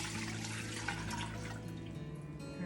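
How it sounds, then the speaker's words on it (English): Muscadine juice being poured into a pot for jelly making, a steady close liquid stream and splashing that tapers off near the end, heard alone. "pour in your juice"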